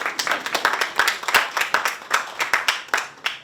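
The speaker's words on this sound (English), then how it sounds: "So another round of applause for our panel." Audience clapping after a film panel discussion at Cannes, a brisk rhythm of close, distinct hand claps that holds steady for several seconds before thinning out.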